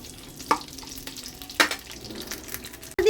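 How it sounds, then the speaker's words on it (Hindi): Cashews, almonds and raisins roast lightly in a pan, giving a continuous low sizzle broken by a few sharp scraping stir strokes, close up and with no talking. "हम इसको हल्का सा रोस्ट करेंगे, काजू बादाम और किशमिश को"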